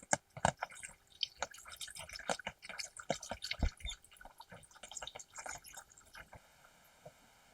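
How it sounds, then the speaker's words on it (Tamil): Irregular patter of heavy rain drips and splashes, dense at first and thinning out toward the end, close by with no voices. "ஒரே மழை."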